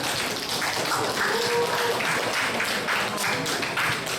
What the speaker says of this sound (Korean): 그러면 다 같이 박수침으로 시상식을 마치도록 하겠습니다